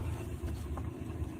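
A Mercedes-AMG car engine gives off a low, throbbing rumble, steady and fairly quiet, with no clear rev rising above it during this short moment.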